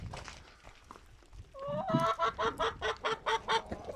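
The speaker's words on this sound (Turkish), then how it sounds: "Tavuklar da beni yem bekliyor yem." Chickens clucking while waiting to be fed, a burst of rhythmic, evenly spaced clucks rising close by after a quieter opening, alone with no talk.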